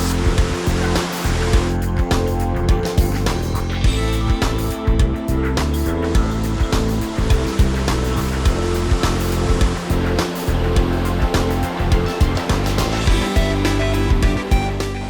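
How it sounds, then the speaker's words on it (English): Tumpak Sewu waterfall in East Java roars as a dense, steady rush of falling water, loud and close throughout, with no voices heard. "And now you have to walk over the waterfall."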